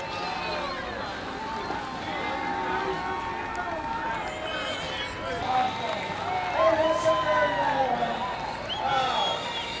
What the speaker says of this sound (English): the crowd goes wild on the Belmont Pier